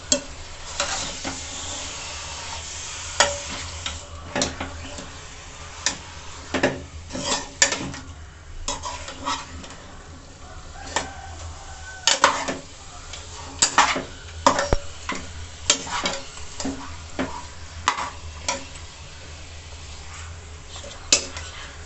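Washed mutton is stirred and fried in a pan with a low, steady sizzle beneath it, while spoon-on-pan scrapes and clinks come in irregular bursts, close and moderately loud.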